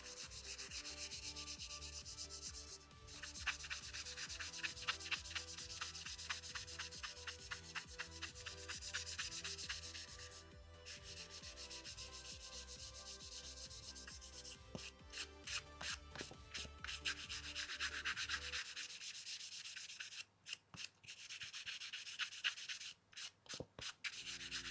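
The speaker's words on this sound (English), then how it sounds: "And then I'm going to actually sand this a little bit because it seems really smooth." Sandpaper rubs steadily back and forth across a junk journal page, a close, continuous scratchy sanding with rhythmic strokes and brief pauses, no voices.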